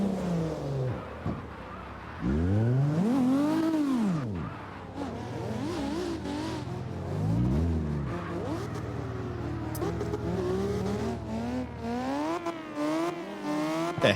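A race car on a track in practice revs hard and sweeps through corners with long sliding tire squeals. The engine pitch rises and falls repeatedly and stays loud throughout.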